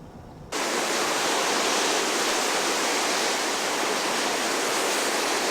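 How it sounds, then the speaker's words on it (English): Water rushing out of drainage tubes in Manhattan after heavy rain, a loud steady roar of pouring water that starts abruptly after a quieter moment and continues without a break. "that's the water tubes where the water is being let out."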